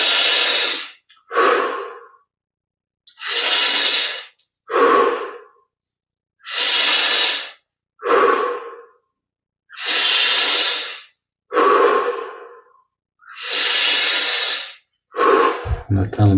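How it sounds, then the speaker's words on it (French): Slow, deep breaths during a Yogoda breathing meditation exercise, each inhale and exhale a loud, close airy rush separated by short silences, repeating in a steady rhythm about a dozen times. "On augmente progressivement l'amplitude de la respiration."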